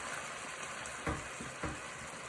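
Onion and garlic hit browning beef mince in a hot pan with a steady close sizzle and frying crackle, broken by two short clatters of stirring; nobody speaks.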